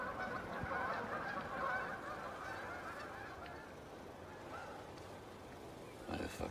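Geese honk repeatedly and loudly at close range outdoors, a continuous noisy flock chorus throughout.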